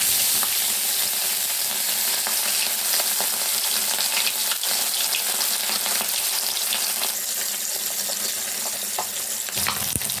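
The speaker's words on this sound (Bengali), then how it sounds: "এবার একে একে মাছগুলো দিয়ে দেবো।" Rohu fish pieces fry in hot oil in a wok, giving a loud, steady sizzle with crackling spatters that holds through the whole stretch, with no voices over it.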